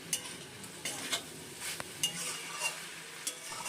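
A spoon stirs sugar into a notey greens curry with potato and eggplant in a pan, giving a series of soft scraping strokes and light clinks over a faint sizzle, close and fairly quiet.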